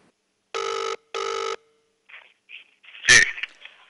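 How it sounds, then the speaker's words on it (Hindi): A telephone rings twice in two even, loud bursts as a phone-line call connects during a news broadcast, followed by a few brief soft noises and a sharper click. "वकील राजीव कुमार हमारे साथ फोन लाइन पर हैं, हम उनसे रूबरू होते हैं"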